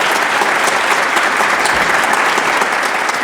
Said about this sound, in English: let's give Dave and Mark a round of applause